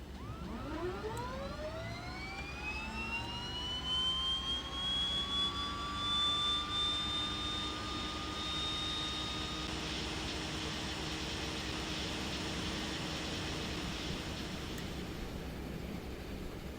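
A de Havilland Twin Otter turboprop engine spooling up after start in Microsoft Flight Simulator, a rising whine that settles into a steady high-pitched turbine drone over a constant low rumble, loud and close throughout.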